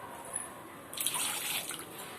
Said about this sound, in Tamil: அது மூழ்கிற அளவுக்கு தண்ணி ஊற்றணும்